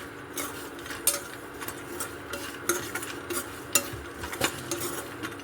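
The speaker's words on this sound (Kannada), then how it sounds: "ನೆಕ್ಸ್ಟ್ ಇವಾಗ ಕೊಬ್ಬರಿ ಹುರಿತಿದ್ದೀನಿ" Dry grated coconut roasts in a pan while a spoon stirs and scrapes it, giving repeated close metallic clinks and scratches over a faint steady sizzle, with no talking.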